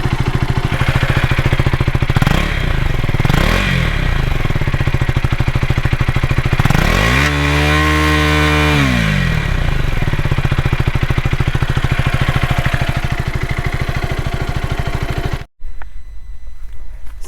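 A motorcycle engine revs hard, with the exhaust silencer touching the guard and adding a rattling double note. A loud, steady engine roar swells into a rising and falling rev in the middle, then cuts off abruptly near the end.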